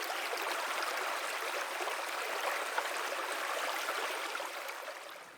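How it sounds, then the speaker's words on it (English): The Current River flows steadily near Cedar Grove in a continuous broad rush of water that stays close and even throughout, with no voices. "We sit down and enjoy the melody of the stream before continuing to Cedar Grove"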